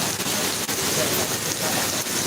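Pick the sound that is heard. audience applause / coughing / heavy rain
heavy rain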